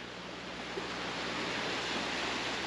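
Constant ocean surf at a dirty beach in Dumaguete, a steady broad wash of waves without distinct breaks, moderately quiet, with no one talking.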